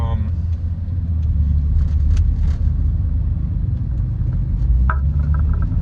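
A car engine drones steadily at highway speed in the Assetto Corsa driving game, a continuous low rumble running under scattered background sounds throughout.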